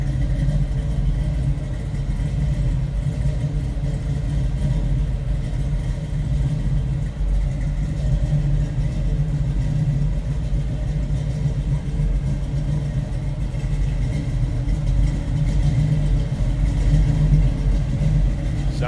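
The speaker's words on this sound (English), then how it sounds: "A little rumble coming out of that V8." A 1972 Chevrolet Nova V8 idles with a low, steady rumble throughout, a continuous throaty drone heard up close with slight rises in level and no talking.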